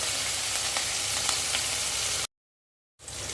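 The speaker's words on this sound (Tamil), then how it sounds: "தக்காளி வெங்காயம் லேசாக வதங்கிட்டு இருக்கும்போது" Tomatoes and onions sauté in hot oil with mustard seeds, cumin, fenugreek and curry leaves for a brinjal and raw mango tamarind curry. A steady close sizzle plays alone, cuts out briefly near the end, then resumes.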